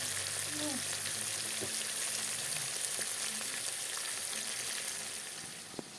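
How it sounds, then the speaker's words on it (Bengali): Pieces of fish fry in a wok, giving a steady crackling sizzle at moderate level that eases slightly toward the end, with a faint voice briefly present early on. "দেখো এখানে মাছগুলো ভাজা বসিয়ে দিলাম"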